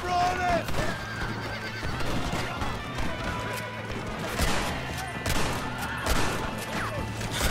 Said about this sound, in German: Pferde in der Schussbahn.